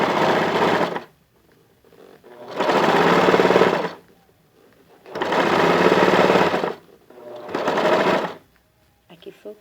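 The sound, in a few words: sewing machine zigzag stitching elastic onto cotton fabric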